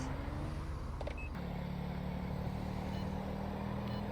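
A car pulls away in GTA V during a highway patrol traffic stop, its steady low engine drone continuous and fairly loud throughout with a shift in tone partway through, and no talking.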